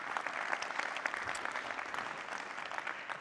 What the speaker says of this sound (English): I'd like the room to give them a massive round of applause